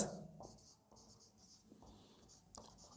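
Faint pen strokes on a surface as a final result is written out during a maths lesson, several short scratchy bursts in a quiet room.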